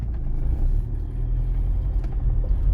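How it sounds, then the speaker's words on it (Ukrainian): Cars circle a city roundabout in Lviv, heard as a steady low road rumble and engine drone from inside a moving vehicle, continuous and fairly loud with no talk. "Бачите, всі як гарненько їдуть, всі три автомобіля проїхали."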